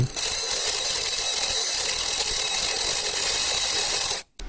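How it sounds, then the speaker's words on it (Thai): A cordless brushless THAKITEC impact driver drills with a 20 mm spade bit, giving a steady, loud, high-pitched whine that runs for about four seconds before cutting off, then briefly restarting. "หรือจะเอาไว้ใช้กับดอกสว่านในงานเจาะก็ทำได้ดีเช่นกันนะ นี่ผมเอามาใส่กับดอกใบพายขนาด"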